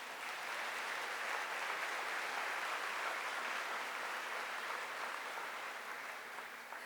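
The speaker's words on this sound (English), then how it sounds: "I think they deserve a round of applause." Steady applause from a college commencement audience at Northeast Community College, a dense, even wash of clapping that holds at moderate loudness throughout without pause.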